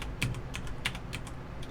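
Computer keyboard keys are tapped in quick, irregular bursts during a StarCraft match, sharp close clicks spaced a fraction of a second apart over a faint background hum.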